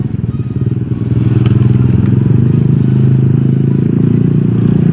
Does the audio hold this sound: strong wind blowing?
no